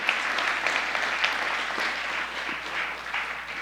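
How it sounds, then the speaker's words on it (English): Steady applause from a theatre audience at an awards ceremony in the Citadel Theatre, a dense, continuous clapping that holds at even loudness throughout with no voices over it. "Let's get a round of applause for the incredible staff here at the Citadel Theatre and Ziedler Hall doing incredible work."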